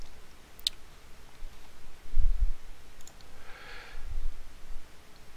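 A few sharp mouse clicks, quiet and close, scattered over a faint background hiss with some low thumps.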